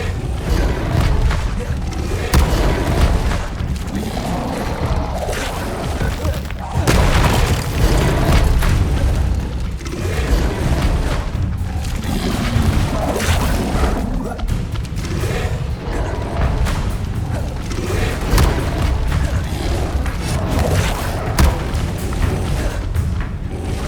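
Spellcasting combat in Hogwarts Legacy, with Expelliarmus and Protego spells fired repeatedly: heavy booming blasts and thuds in an irregular run, loud and dense over continuous game music and effects.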